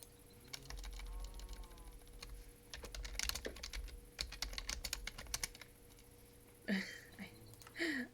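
Computer keyboard typing in rapid, uneven bursts of key clicks during a Minecraft Hardcore session, close and fairly loud, with a pause and a few brief louder sounds near the end.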